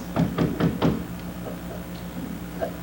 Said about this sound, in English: Now I hear somebody knocking.